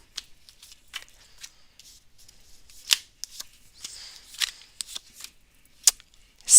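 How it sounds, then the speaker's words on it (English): Tarot cards being shuffled by hand: a run of crisp, irregular papery riffles and flicks, close and fairly quiet, with a few sharper snaps and no talking. "So, Sunflower, I'm shuffling and I'm shuffling and I'm shuffling"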